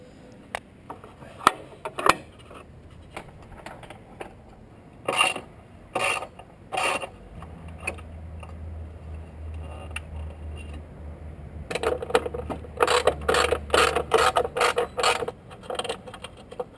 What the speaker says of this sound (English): Need to unscrew this bolt here